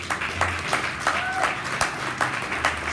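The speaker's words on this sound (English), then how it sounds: "give her a round of applause" Audience at a book launch applauding, steady clapping with a few sharp louder claps standing out and faint voices mixed in over a low background hum.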